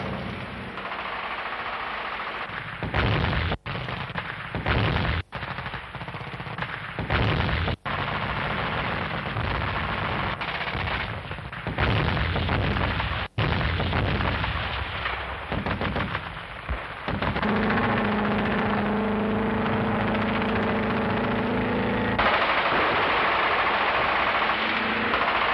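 An army tank's 105 mm main gun, 7.62 mm coaxial machine gun and 0.50-inch turret machine gun fire in a loud, dense barrage of sharp blasts and rapid bursts over rumbling engine noise, with a sustained roar near the end.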